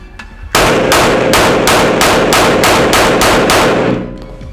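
Ten rapid shots from a domestically made firearm on a 10-metre range, loud and close, in a steady evenly spaced string with no talk.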